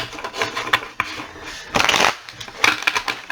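Papery riffling bursts of tarot cards being shuffled, three or four quick rustling passes with short pauses between them, close by.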